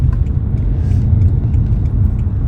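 A 370-horsepower BMW with traction control off accelerates hard with wheel spin, heard as a loud, close, steady engine roar with a rough rumbling edge through the short burst.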